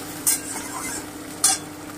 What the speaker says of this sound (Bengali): আমি পেঁয়াজ কুচোনোটা হালকা ব্রাউন করে ভেজে নেব।